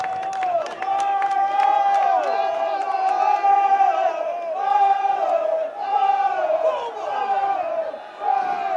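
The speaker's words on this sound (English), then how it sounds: "Poor Pat Moran takes a big one. Crowd enjoyed that." A rugby league stadium crowd roars and cheers loudly after a big tackle during the Barrow versus Oldham match, a sustained swelling din with whoops rising and falling for several seconds.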